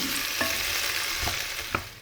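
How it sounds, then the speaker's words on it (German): Warm lentil salad ingredients and vegetables sizzle steadily in a hot pan, with a few soft knocks of a spoon stirring them through the continuous frying hiss. "Meine wundervollen Zutaten dürfen jetzt ein Wärmebad in der Pfanne genießen."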